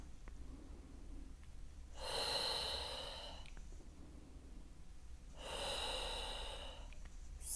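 Two long, deep breaths in a pregnancy wall pilates exercise, hands pressing against a wall, each breath a broad airy rush lasting over a second, separated by quiet pauses.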